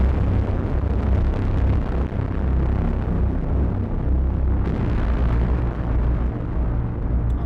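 A cinematic braam built on a modular synthesizer: a massive, sustained low brassy roar that swells and rumbles continuously, loud and heavy throughout, with no talking.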